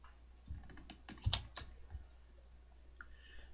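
Quiet computer keyboard typing in a spreadsheet: a brief cluster of soft key clicks and taps nearby, one sharper click standing out, then near silence.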